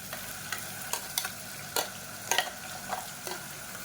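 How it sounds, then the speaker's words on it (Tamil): Ground paste stirred into softened onions in oil over a medium flame for biryani, with repeated scraping stir strokes at an irregular rhythm over a faint, steady sizzle, close and fairly quiet. "சேர்த்து நல்லா எண்ணெய் கசியை வதக்கி விட்டுக்கலாம் மீடியமான ஃப்ளேமில்"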